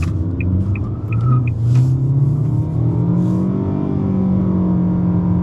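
A 2023 Nissan Altima's engine with a CVT drones steadily under full-throttle acceleration, a loud sustained low hum with a slowly rising tone and a few faint clicks at the start, with no voices.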